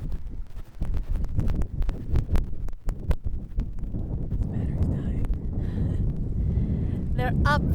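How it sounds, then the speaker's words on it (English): Strong wind buffeting a microphone outdoors on a sailing project, a loud low rumbling roar with gusty throbbing pulses, while people talk over it. "It's very windy, so I don't know if you can hear me"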